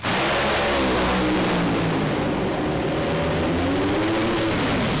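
Top Fuel dragsters in a drag race final roar with an intense, continuous engine blast, very loud and close, the pitch climbing and sweeping as the cars accelerate down the strip.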